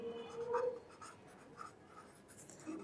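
Marker or chalk writing on a board during an accounting lesson, a few soft scratchy strokes, the loudest burst early, then quieter intermittent scribbles close by with no talking.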